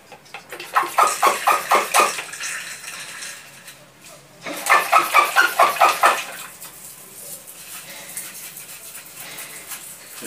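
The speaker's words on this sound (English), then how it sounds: "I'm now going to water them." Water pours in rhythmic splashing bursts onto tomato seedlings in plastic containers, two clustered runs of pulses with a pause between them and quieter trickling afterward.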